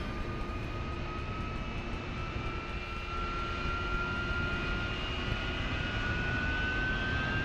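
A jet engine in the DCS World flight simulator spools up with a steady, loud roar and rising whining tones that climb slowly in pitch.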